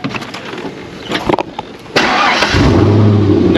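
A car engine is cranked and catches at about the two-second mark, settling into a steady, loud idle with some revving, preceded by clicks and rattles from the car.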